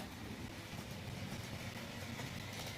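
A CSX locomotive on a model railroad pulls a string of cars, giving a steady, continuous rumble and rolling clatter at moderate level with no talk.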